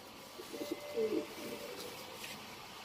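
Deobandi pigeons give a few soft, throaty coos close by, a short cluster of low calls over quiet background hum.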